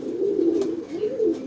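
A pet bird gives a low, soft, rolling coo that repeats in a steady rhythmic pattern, close and fairly loud, with no other sounds.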